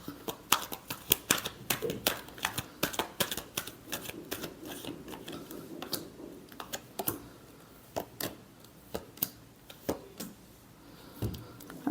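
Tarot cards being shuffled by hand, heard as rapid, irregular dry clicks and slaps close by, in short clustered bursts with brief pauses.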